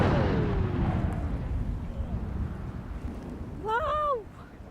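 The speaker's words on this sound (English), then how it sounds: "I was so scared during that detonation" A demining main charge detonates outdoors, a loud deep blast rumbling and decaying over several seconds, followed by a voice exclaiming.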